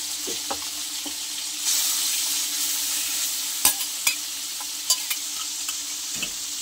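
Tofu and pork fry in a wok, a steady close sizzle that grows louder partway through, broken by sharp clinks and scrapes of stirring.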